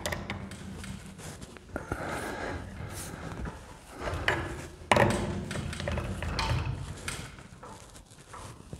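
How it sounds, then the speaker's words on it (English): A wrench tightens a hose fitting on a transfer tank, giving faint irregular clicks, ratcheting and metallic taps scattered through quiet rustling handling noise, close by and low in level. "Pick that wrench back up and tighten it down."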